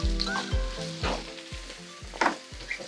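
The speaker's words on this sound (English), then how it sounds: "the extra virgin olive oil for the vegetables, and just add my carrots and my onions together." Carrots and onions sizzling in extra virgin olive oil in a pan, a steady close frying hiss broken by rhythmic scraping stirs roughly every half second, with low music running underneath.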